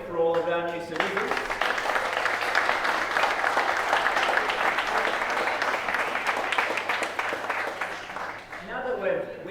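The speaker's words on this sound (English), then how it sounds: "Another round of applause, I think, for all of our new citizens." Warm, steady applause from the crowd for new citizens at an Australian citizenship ceremony, a dense wash of clapping that swells and holds for several seconds, framed by a speaker's voice at the start and end.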